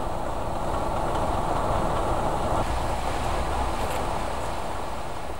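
A Picasso X-3800 diesel railcar rumbles steadily nearby, a continuous engine drone with faint rattling and no voices.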